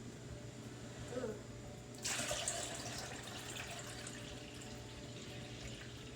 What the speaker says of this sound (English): we're going to fill this up with water, and we're going to dump it in slowly this time